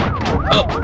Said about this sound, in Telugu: సైరన్ సౌండ్ అండి.